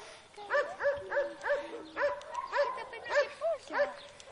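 A dog gives a run of about ten high, yelping barks at a quick, uneven pace, close by with faint background murmur.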